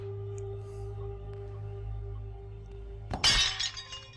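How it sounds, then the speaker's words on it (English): A magical shield shatters in the horror video game Blank Dream: a sudden loud burst of breaking glass cuts through a quiet background hum near the end and rings out briefly. "The shield shatters again"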